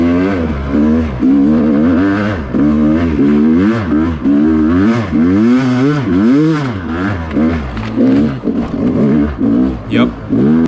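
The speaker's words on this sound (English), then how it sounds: "We're gonna run this hill again because who doesn't love a good sandy two-stroke hill climb?" A 2021 Yamaha YZ250X two-stroke dirt bike with many modifications climbs a sandy hill, its engine revving hard and continuously, rising and falling in pitch as it accelerates.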